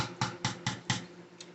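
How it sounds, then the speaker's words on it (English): Salmon croquettes fry in hot grease, giving faint bursts of sizzling that swell and fade about every quarter second, with a softer last crackle. "You see that I'm frying these in real time for you."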